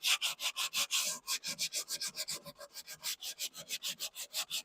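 Hand sanding an old dark finish on a cherry tall clock with 100-grit paper, brisk regular back-and-forth rubbing strokes, close and loud, about six strokes per second with no talking.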